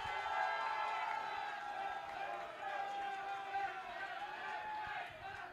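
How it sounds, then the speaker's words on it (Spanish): A studio audience at a reality TV show cheers and applauds steadily, a dense wash of voices and clapping at full strength that eases slightly toward the end. "Aplausos para Anali y Cassandra."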